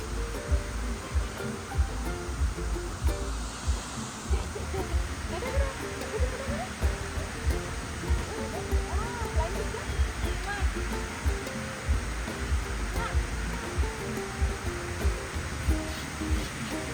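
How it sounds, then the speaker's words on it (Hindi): A waterfall flows down from the hills in Goa, a steady, broad rushing roar of water throughout, with faint voices now and then. "ये जो झरना यहाँ से दिखे पहाड़ से होकर इसे नीचे से गुजर रहा था, उसका आवाज़ था ये।"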